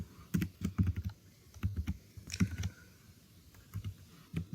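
Keys clack in short irregular bursts as code is typed on a computer keyboard, close and crisp, with brief pauses between runs of keystrokes.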